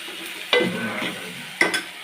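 Onions sautéing in sesame oil in a pan for Chettinad chicken kulambu give a steady low sizzle with two sharp scraping stirs, close and clear, and no voices.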